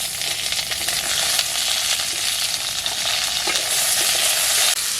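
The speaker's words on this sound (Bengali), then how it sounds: "ফোড়নটা ভাজা হয়ে গেছে, এখন আমি আলুগুলো দিয়ে দিচ্ছি।" Potato pieces sizzle steadily in hot oil with panch phoron, dried chilli, bay leaf and onion, with occasional scrapes and clinks of stirring in the pan, continuous and close throughout.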